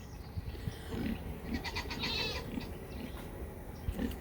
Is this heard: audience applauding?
no